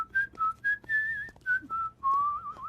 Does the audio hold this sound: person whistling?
yes